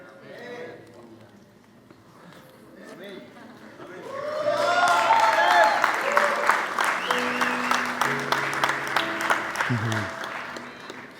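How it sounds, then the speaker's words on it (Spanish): Audience applause at a church event, rising after a quiet spoken stretch into steady, moderately loud clapping from a crowd, with voices continuing underneath. "Usted no aplaude como muy convencido"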